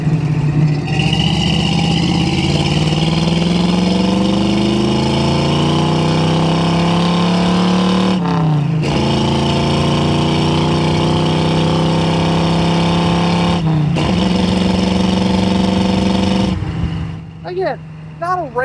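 A 1970 Ford Mustang with a 302 small block V8 and four-speed runs loud and close, its steady engine note rising in pitch through long pulls with two brief dips between them before it drops off near the end.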